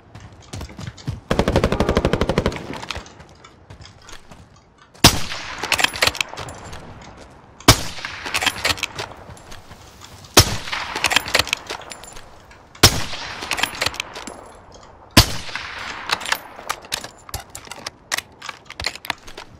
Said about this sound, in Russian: Кто-то по нему еще стрелял.